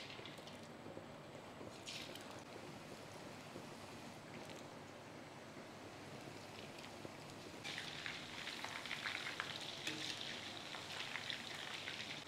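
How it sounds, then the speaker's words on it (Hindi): Chicken deep frying in oil on a medium-low flame, a dense steady sizzle that grows brighter and louder partway through, heard up close with no talk. "मीडियम टू लो फ्लेम पे हमने 3 मिनट चिकन को फ्राई किया।"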